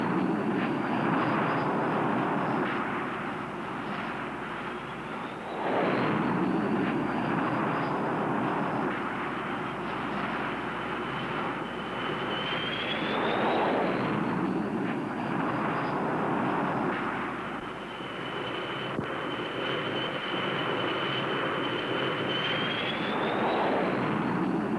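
Grumman Cougar jet engine during a carrier launch aboard the U.S.S. Shangri La in 1956, a loud steady roar with slowly rising and falling whines and sweeping pitch, continuous throughout without speech.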